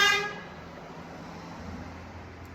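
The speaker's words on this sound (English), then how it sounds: "That was a tow truck driver that just honked." A tow truck's horn gives a single short honk right at the start, outdoors by a road, then fades into low traffic rumble.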